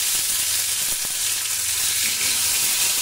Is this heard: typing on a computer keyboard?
no